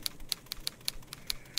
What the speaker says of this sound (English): hearing from her shut door a commotion of typewriter keys like a chain hauled over a